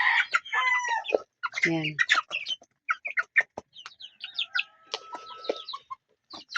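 Backyard chickens clucking and squawking as they are given food, a busy overlapping chorus of close calls with a brief crow-like cry, while someone speaks briefly.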